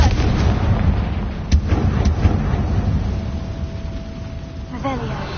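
A Confringo fire spell blasts in Hogwarts Legacy, with two sharp bangs close together over a dense, rumbling game background and a short whooshing tail near the end.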